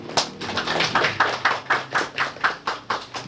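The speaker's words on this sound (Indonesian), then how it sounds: "Mari kita berikan aplaus" Audience applause after a seminar presentation at a community health centre orientation, a steady run of about a dozen sharp, evenly spaced claps close to the microphone with no talking over them.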